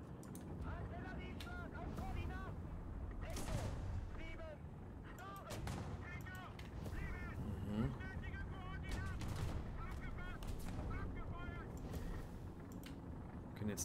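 Artillery fire in the tank game War Thunder: heavy booming shots burst out repeatedly at uneven intervals over a rumbling battlefield, while someone talks quietly in between.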